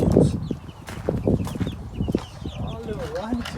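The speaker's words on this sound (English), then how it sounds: "It's chickens." Chickens cluck in a busy run, short close calls and chirps scattered among background murmur and the voices of people talking nearby.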